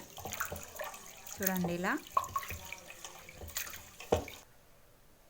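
Moong dal and rice being washed in water in a kitchen, with sloshing and splashing close by under someone speaking, including a brief rising swirl of water.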